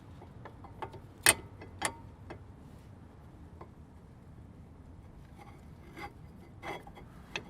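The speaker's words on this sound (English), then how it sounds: "now we're just gonna slide the new pads in" New brake pads slide into the front caliper of a 2004 Porsche 911 Carrera during a brake job, making faint metallic clicks, ticks and a few sharp scrapes spread unevenly over a quiet background.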